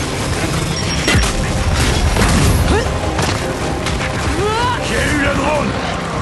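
Grenades explode in a Gears 5 Horde match, booming blasts and crashing debris amid dense gunfire and game effects, loud and close, with voices speaking over the action.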